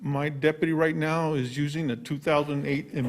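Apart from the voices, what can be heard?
No everyday noises stand out.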